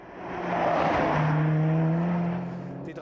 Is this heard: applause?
no